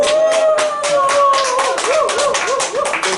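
Audience applause at a graduation and certificate ceremony, a steady burst of many hands clapping up close, with a voice running along beneath it.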